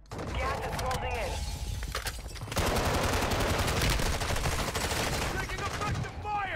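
Rapid automatic gunfire rattles nonstop in a video game, dense and loud, with the bursts thickening after a brief lull, while some game sounds and chatter sit underneath.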